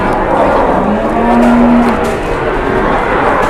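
A cow at a crowded cattle gathering gives a single drawn-out low moo that rises out of a loud, steady background din, with no clear talk over it.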